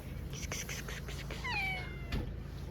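A cat gives a short, rising meow, fairly close, amid soft rustling and quiet whispery sounds.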